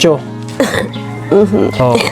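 A person coughs and clears their throat a few times in short, rough bursts, close up, with voiced sounds between.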